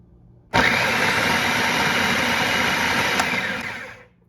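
A food processor chopping rolled oats starts abruptly with a loud, whirring motor roar that holds steady for about three and a half seconds, then winds down as it is switched off.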